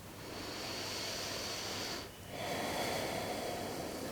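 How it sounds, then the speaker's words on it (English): A long, deep belly breath during a vinyasa yoga flow: a steady airy inhale, a short pause, then a slow, breathy exhale, close and soft with no talking. "Last belly breath here."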